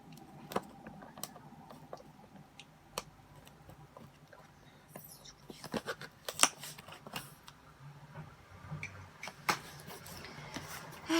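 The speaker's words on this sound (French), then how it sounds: "je vais prendre mes petits ciseaux" Small scissors snip open the plastic packaging of a Box8 MaBozzle jigsaw puzzle, with faint scattered clicks and crinkles and a few sharper cuts close by.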